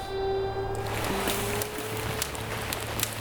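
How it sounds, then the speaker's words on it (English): Heavy rain drums steadily on a tent at dawn, a continuous dense patter close overhead with no voices. "all I hear is pouring rain on the tent"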